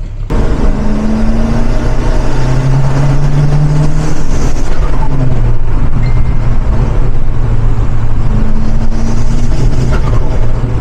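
A broken-down car with an engine that will not accelerate drones loudly and steadily, with a low rumble and a faint whine rising and falling, and no speech.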